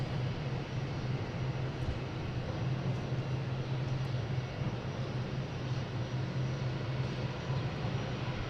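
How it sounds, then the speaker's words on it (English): A Delta Airbus A321neo jet arriving at Boston Logan from San Juan, a steady, fairly distant roar with a low hum throughout and no talking. "And we have a Delta coming in from San Juan, an A321neo, flight 1780."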